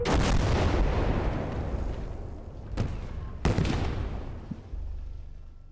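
Artillery fire in the WWII strategy game Gates of Hell: Ostfront, set in a muddy Rasputitsa battle: a steady roar of distant barrage with two sharp, loud blasts cutting through, their rumbling echoes trailing off.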